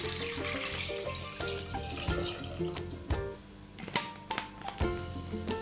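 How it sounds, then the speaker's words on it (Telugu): Water is poured into a pressure cooker, splashing and gurgling with a few metallic knocks and clanks from the pot. "ఈ కుక్కర్లో తగినంత వాటర్ వేసుకోవాలి."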